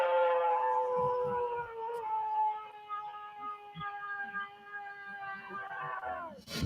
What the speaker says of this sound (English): It's a long, drawn-out howl that lasts about 9 seconds and certainly sounds like an animal of some kind.